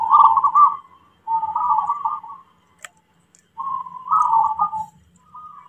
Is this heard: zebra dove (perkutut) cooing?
yes